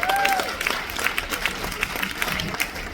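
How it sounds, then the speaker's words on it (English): An audience claps for performers at a top-tier event aboard the Odyssey of the Seas cruise ship in the Mediterranean, a loose scattered round of applause with a few sharp individual claps over light room noise. "How about a big round of applause to these wonderful people behind me?"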